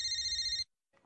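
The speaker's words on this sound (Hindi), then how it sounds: "रिंकू मैम, सर कब से आपका फोन ट्राई कर रहे हैं" A telephone rings with a bright electronic bell for about half a second and then stops, followed by near silence and a faint rustle, indoors on a Hindi television comedy set.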